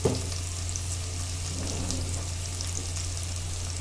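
Onions frying with salt in a pan, a dense, steady crackling sizzle that holds evenly throughout after a brief clatter at the start, loud and close with no voices over it.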